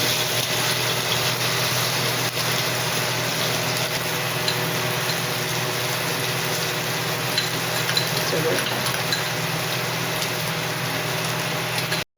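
Finely chopped onions frying in a pan, a steady close sizzle that runs continuously with faint background hum and no talk.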